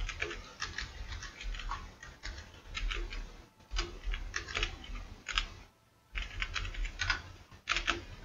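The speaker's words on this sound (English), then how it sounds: "I'm not used to typing in survival very often." Rapid, uneven clicking of computer keyboard keys in close bursts, with brief pauses between runs of keystrokes and a low background hum underneath.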